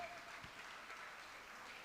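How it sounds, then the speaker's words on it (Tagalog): A church congregation claps during worship, a faint, distant patter of applause that holds steady throughout. "Palakpak pa lang sa Ginoo mga igsoon."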